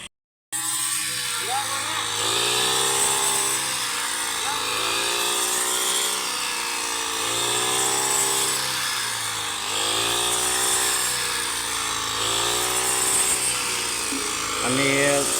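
A brush cutter adapted with a curved rice-reaping attachment runs steadily through a rice field in Laos, its engine whine rising and falling in repeated sweeps under ongoing talk.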